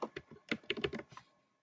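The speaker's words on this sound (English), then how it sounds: "type in your first name, last name, date of birth," Rapid typing on a computer keyboard while filling in an online absentee ballot request form, a close burst of crisp keystrokes that tapers off into silence.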